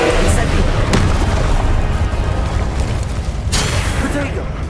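A fire spell blasts repeatedly in combat in Hogwarts Legacy, with loud, dense booming bursts and crackling impacts throughout, sharp flares near the start, at one second and around three and a half seconds, all under busy battle noise.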